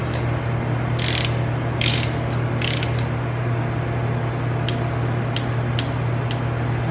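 A ratchet wrench tightens bolts during a cam swap on a Harley Road Glide's M8 engine, giving a few short bursts of rapid clicking, then faint single ticks over a steady low hum.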